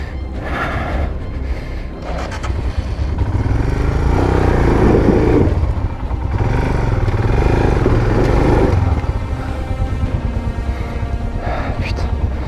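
A motorcycle with a soft tyre is ridden on a road in Jordan, its engine droning loud and close with steady wind rumble, rising in the middle and holding on, and a voice is heard over it.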